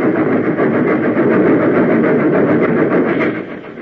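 Train engine sound effect from a 1940s radio drama: a loud, steady mechanical rumble with rhythmic chugging pulses that holds constant, then eases slightly in the final half second.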